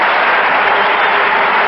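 A baseball stadium crowd in Cincinnati applauds a pitcher during the 1972 World Series, a loud, dense, unbroken roar of clapping on an old radio broadcast with a muffled, band-limited tone.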